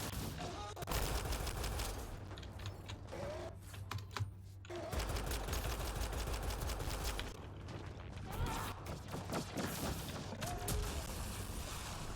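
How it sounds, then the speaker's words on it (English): Gunfire in the Mass Effect Andromeda video game, rapid bursts of weapon shots aimed at the floor, loud, continuous clattering runs broken by a short pause, over a low game soundtrack hum. "Watch as I shoot the floor."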